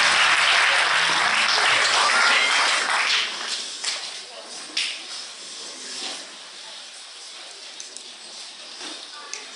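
Church congregation at a convention in Cameroon applauds loudly at first, dense clapping that fades after a few seconds into scattered claps and quieter room noise.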